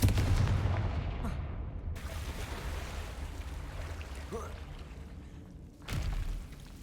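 A Confringo blasting spell goes off in Hogwarts Legacy as a loud booming thud with a rumbling tail that fades over several seconds, then a second, shorter burst comes near the end.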